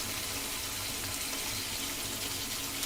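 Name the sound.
pouring water into the meat for boiling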